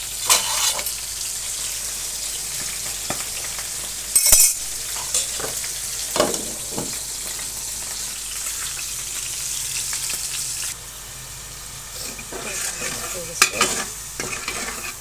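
Onions and ginger fry in a pan for a winter mixed-vegetable dish, a steady sizzle punctuated by stirring scrapes and a few sharp utensil clanks.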